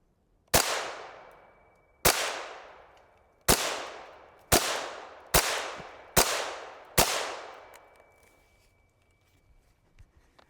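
Seven sharp, loud .22 LR hypervelocity rifle shots from an HK G36 rimfire on a range, fired at an uneven pace, each crack trailing off in a short echo, with no talking.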